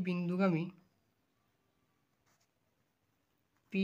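A pen scratches faintly on paper while a math problem is worked out. A voice speaks briefly before the writing and again after it.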